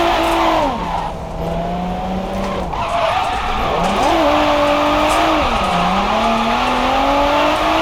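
A car drifts in the video game Drift Scorpion, its engine revving up and down in long sweeping pitch bends as the tyres skid. The sound is loud and continuous, with no talk.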